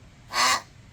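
One harsh, raspy caw-like call from a nearby bird, short and loud against a quiet background.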